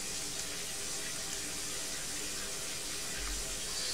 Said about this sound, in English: it's beginning to, or should begin to fill up the tub once I close the stopper